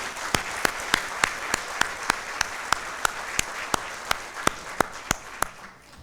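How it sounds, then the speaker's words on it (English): At a Chain of Survival 2024 event, an audience gives paramedic staff a round of applause. Sharp claps land in a steady, evenly spaced rhythm, nearly twenty in a row, over a soft background of scattered clapping. "and give them a round of applause."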